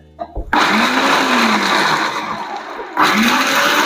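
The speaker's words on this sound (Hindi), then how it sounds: "मखानों को चॉपर में डालकर 1 मिनट के लिए चॉप कर लिया है" An electric chopper whirs loudly as it grinds makhana (fox nuts) and dry fruit, starting abruptly, running steadily for a couple of seconds, pausing briefly and starting again.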